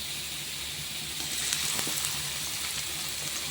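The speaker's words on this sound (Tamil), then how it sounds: "எண்ணெய் காஞ்சிச்சு நம்ம கொஞ்சம் வெங்காயத்தை போட்டுக்கிறோம்" Onions dropped into hot oil in a kadai for a masala, a steady moderate sizzle and hiss swelling slightly as they go in, with a few faint stirring taps.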